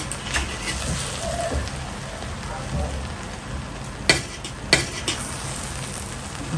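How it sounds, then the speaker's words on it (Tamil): Beef biryani being gently mixed in a pot, a steady soft sizzle and stirring rustle throughout, with a few sharp scrapes of a utensil against the pot near the end. "மெல்லமாக இந்த மாதிரி மிக்ஸ் பண்ணிட்டீங்கன்னா மாட்டிறைச்சி பிரியாணி ரெடி"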